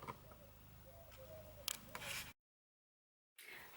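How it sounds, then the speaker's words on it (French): Scissors cut fabric close up, making soft rasping snips that build to a louder crunchy cut. Then the sound drops out completely before resuming briefly. "je vais commencer par découper mes tissus"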